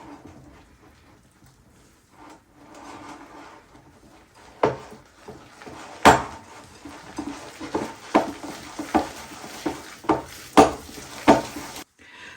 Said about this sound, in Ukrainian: І все це діло розмішуємо